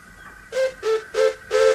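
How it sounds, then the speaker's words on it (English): Steam train whistle from twin Scottish engines, four short, evenly spaced toots in quick succession, loud and close with a thin rumble under them. "The Scottish twins gave a friendly whistle before setting off with their train"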